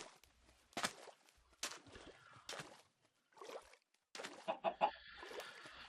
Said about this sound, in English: Yeah, that has to be chicken.